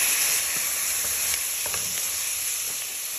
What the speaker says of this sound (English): Now you want to add in your prawns.